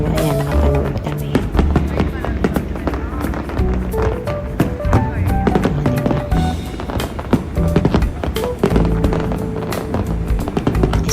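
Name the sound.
live fireworks at a celebration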